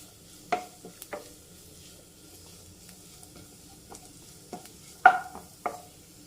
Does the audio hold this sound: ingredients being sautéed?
yes